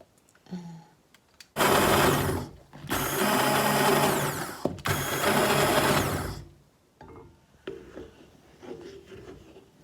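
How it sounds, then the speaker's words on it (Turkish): A hand blender whirs loudly in three long bursts with short pauses between, close up, followed by quieter clattering. "Bundan sonra bu mikserle e, püre yapacağım."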